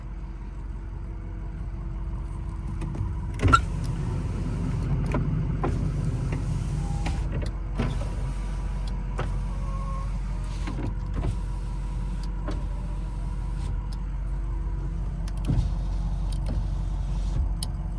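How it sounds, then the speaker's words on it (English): Power windows and door locks whir repeatedly over a steady low diesel idle inside a 2006 Ford F250 Powerstroke truck, broken by occasional clicks and thumps; no one speaks. "Windows work, door locks work."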